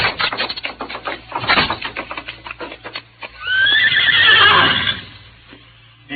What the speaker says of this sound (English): Our horses are in the stable at the rear.